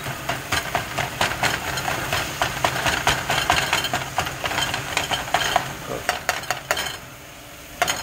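Seasoned taco meat sizzles and crackles steadily in a hot pan, with a spoon or spatula stirring and scraping now and then, close and continuous.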